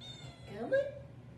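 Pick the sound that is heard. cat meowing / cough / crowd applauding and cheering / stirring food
cat meowing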